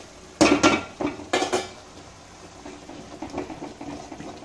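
Spice powders being stirred into softened tomato masala in a pan for a creamy spicy macaroni dish: a few sharp metal clinks of a spoon against the pan up front, then softer scraping and faint sizzling, with no voices.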